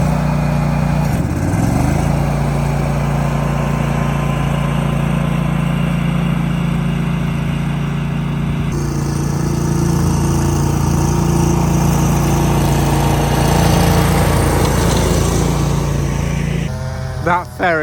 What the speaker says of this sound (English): That Ferris is making really light work of this bank.